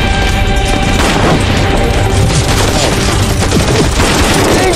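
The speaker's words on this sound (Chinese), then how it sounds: "精准射击" Dense gunfire in a war drama about anti-Japanese fighting, loud continuous volleys of shots and booms mixed together without pause for the whole stretch.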